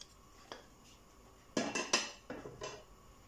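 About 40 g of butter goes into a saucepan for a béchamel, with a faint early tap followed by a few sharp metallic clanks of pan and utensil in a quiet kitchen.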